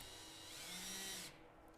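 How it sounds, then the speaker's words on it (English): A power drill drives a screw into wood while building a birdhouse, making a steady, close, whining motor buzz that swells briefly as the screw bites, then cuts off sharply, leaving a faint tail and no talking. "the screw will do its job of pulling into the wood"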